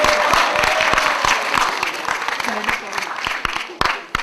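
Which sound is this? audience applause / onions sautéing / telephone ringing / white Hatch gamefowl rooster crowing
audience applause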